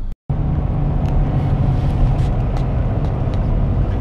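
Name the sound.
car driving along a road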